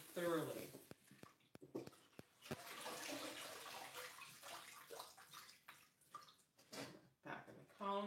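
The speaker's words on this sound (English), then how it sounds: "make sure that this spinach is rinsed thoroughly" Fresh spinach rinsed under a running tap, with water splashing and gurgling over the leaves in uneven bursts, close and fairly quiet, some clatter between pours.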